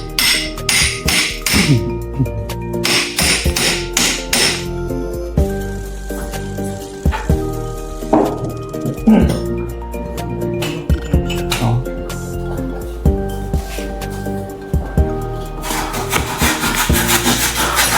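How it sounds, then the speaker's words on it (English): A handheld medullary reamer is worked into the femoral canal during hip replacement, giving repeated loud rasping, grinding strokes in irregular bursts, with metallic clinks and short pauses between passes. "Use a handheld medullary reamer to prepare the medullary canal."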